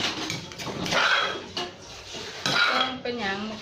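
Isan-style mushroom soup ingredients pounded in a mortar, a run of clattering, knocking strikes with scraping between them, fairly close and moderately loud, no talking.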